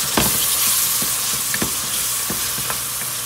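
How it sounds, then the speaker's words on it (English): Steady sizzling of seasoned cranberry beans frying in a pan, with a few sharper stirring scrapes and pops over the continuous hiss; no voices. "you want to fry them a little bit with some seasoning"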